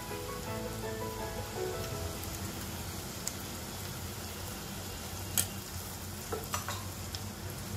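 Asafoetida and turmeric sizzle in hot oil with curry leaves as a spoon stirs the pan, giving a steady low crackle broken by a few sharp scraping clicks near the end.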